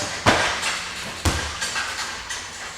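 Two thudding kicks land on a punching bag about a second apart, sharp impacts followed by softer shuffling and scuffing, fairly quiet and close with no talking.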